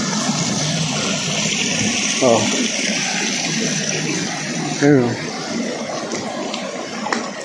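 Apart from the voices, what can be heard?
water flowing in a clear mountain stream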